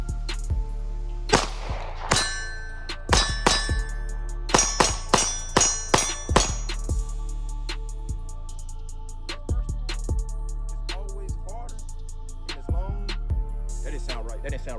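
A 9mm Sig P226 pistol fired with a long double-action trigger pull: a run of sharp, loud reports with bright metallic clangs and ringing, bunched irregularly and then thinning out over a steady background hum.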